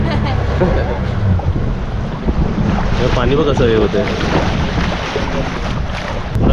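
A small rowing boat out on open water near a beach, with water and wind noise running steadily throughout while people talk over it.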